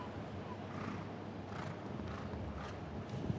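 Horse hooves thud across a show jumping arena during a Global Champions League Super Cup final, muffled rhythmic strides under a broad crowd and arena murmur.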